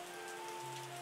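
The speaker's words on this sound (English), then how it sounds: "finally some rain." Steady rain falls in the winemaking tycoon game Terroir, a soft continuous patter with a faint tonal hum running through it.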